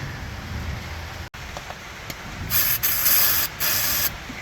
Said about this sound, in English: So hit it with some good degreaser, see if we can get it a bit cleaner down there.